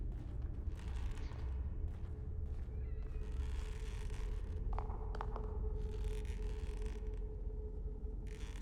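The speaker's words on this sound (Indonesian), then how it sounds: "Kucing." Cat meowing in a video game, a few brief creaky meows mid-clip over a continuous low droning game ambience, with no talking.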